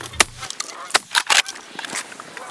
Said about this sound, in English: When more geese came in, they started to spook just as they made it into range.